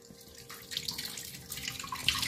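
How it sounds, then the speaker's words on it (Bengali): Fish, rohu and prawns, rinsed under a running kitchen tap, a steady close splashing hiss of water that grows slightly louder toward the end, with no voices. "মাছগুলো ধুয়ে নিই"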